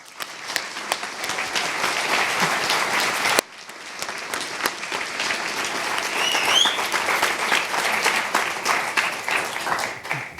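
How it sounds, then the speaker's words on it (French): Graduation ceremony audience applauding themselves loudly, a sustained crowd of clapping hands with a brief dip partway through before swelling again and continuing strongly to the end. "j'aimerais qu'on s'applaudisse tous très très fort"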